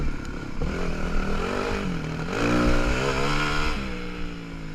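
A dirt bike engine drones loud and close on a looping track, its pitch rising and falling as the rider shifts down through the gears, with no talking over it.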